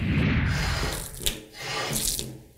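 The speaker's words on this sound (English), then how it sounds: "Then I have to wash my vegetables using running water." Running tap water splashing into a sink as vegetables are washed for kitchen prep, a loud, close, continuous flow with brief shifts as the stream is interrupted.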